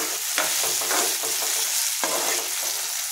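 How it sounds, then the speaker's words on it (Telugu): Ginger garlic paste frying in a pan, a steady close sizzle with periodic scraping stirs cutting through, no voices. "అల్లం వెల్లుల్లి పేస్ట్ వేసుకోవాలి. ఇది కొంచెం పచ్చివాసన పోయేదాకా వేయించుకుని"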